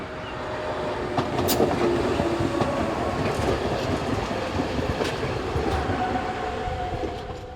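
A train on a metre-gauge line in Switzerland, near Gontenschwil station, rumbles steadily along the rails with faint rhythmic clatter and occasional high metallic squeals, continuous and fairly close throughout.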